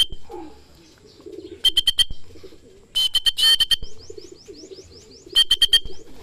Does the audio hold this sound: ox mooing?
no